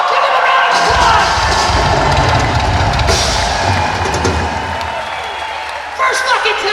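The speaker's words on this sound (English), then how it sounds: "Give him a round of applause!" A large crowd at the M3 Rock Festival in Columbia, Maryland roars with loud, sustained cheering and applause that fades slightly before a final burst of claps.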